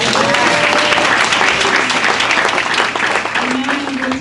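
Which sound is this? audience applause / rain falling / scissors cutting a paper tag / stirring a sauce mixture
audience applause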